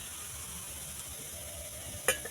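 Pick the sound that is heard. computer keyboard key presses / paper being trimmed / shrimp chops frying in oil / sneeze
shrimp chops frying in oil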